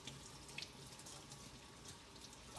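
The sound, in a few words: tap water rinsing lettuce leaves in the sink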